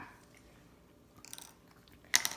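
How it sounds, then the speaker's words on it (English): Scissors snip through the top of a marker, giving a short rustle followed by one sharp, bright crunching cut near the end, close up with no talking. "take some scissors and cut off the top so it's flat"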